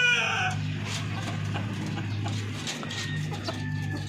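Chicks and chickens on a poultry farm chirp and cluck steadily at close range, with a loud cheep at the start over a constant low hum.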